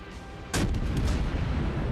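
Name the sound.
ship guns firing a shot in a video game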